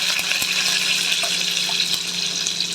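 Mustard seeds, cumin, crushed garlic and curry leaves sizzle hard in hot oil for a tomato chutney, a dense close crackling hiss with a few sharp pops and no talking.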